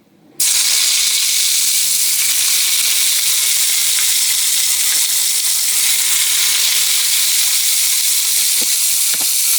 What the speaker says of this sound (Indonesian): langsung saja aku panasin minyak untuk menggoreng ikan patin yang udah aku marinasi tadi